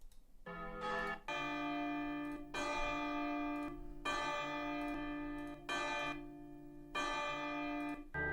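A church bell tolls repeatedly in a steady dong-ding rhythm, each strike ringing out with long, rich overtones that overlap into the next, clear and close with no voices.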